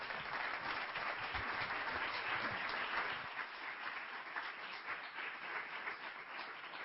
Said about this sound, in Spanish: Quiero pedir un fortísimo aplauso para Pablo Villarrubia